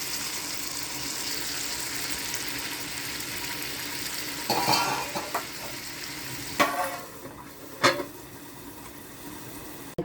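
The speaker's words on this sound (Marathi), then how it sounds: "गरम पाणी ठेवलं ते गरम पाणी टाकायला" Hot water poured into a pan of sizzling village-style brinjal in spicy black masala: a steady hiss of frying with three sharp bursts of splashing and spitting as the water hits, close and fairly loud.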